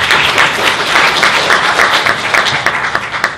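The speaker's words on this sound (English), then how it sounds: "Please give a round of applause to Terence Lee." Audience applause for speaker Terence Lee, steady dense clapping from a crowd throughout, loud and sustained with no pause.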